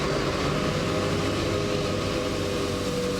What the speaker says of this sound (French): le petit bruit que vous entendez, c'est la tonne à eau qui arrose la piste